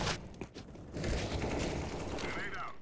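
Gunfire in Counter-Strike: Global Offensive, a sustained stretch of shooting and mechanical rattling under the game's ambience, with a player talking over it.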